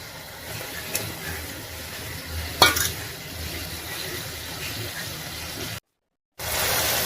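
Chopped tomato drops into a pan of sizzling, well-fried masala for an egg curry, giving a steady soft frying hiss with a couple of sharp clatters, then a brief silent gap before the sizzle returns.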